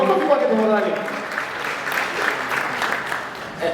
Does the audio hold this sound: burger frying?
no